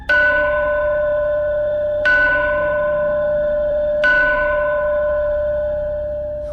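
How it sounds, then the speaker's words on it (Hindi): A village temple's bells are struck three times, about two seconds apart, each strike ringing out loud and clear with a long shimmering decay, with no other sounds around them. "मंदिर की घंटियां अपने आप बजने लगीं"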